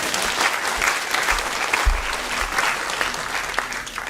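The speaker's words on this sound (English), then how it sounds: "So a round of applause to how far we've all gone so far." Conference audience applauding during a keynote, a dense steady round of clapping that fills the space and holds at an even level throughout.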